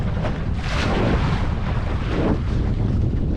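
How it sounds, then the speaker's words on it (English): Gusty wind buffets the microphone while sailing a lugger on open water, a loud continuous roar with surging gusts and a wash of water underneath. "It's quite breezy, it's getting a little bit gusty."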